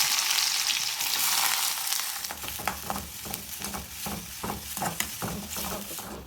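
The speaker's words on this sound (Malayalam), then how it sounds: "വെളിച്ചെണ്ണ ഒഴിച്ചു കൊടുത്തിട്ടുണ്ട് രണ്ട് കടുക് ഇട്ട് കൊടുക്കാം ഇത് ഒരു സവാള അരിഞ്ഞതാണ് ഇത് നമുക്ക് ഇട്ട് കൊടുക്കുന്നത്" Chopped onion and mustard seeds fry in coconut oil for a pumpkin-leaf thoran, a steady hiss that turns busier after a couple of seconds, with repeated crackles and spatula scrapes in an uneven rhythm, close and fairly loud.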